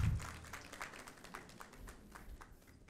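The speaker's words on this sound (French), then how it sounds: "s'il vous plaît, sous vos applaudissements." An audience applauds a panelist at a plenary conference session, a modest, moderately distant patter of clapping that fades out over a few seconds.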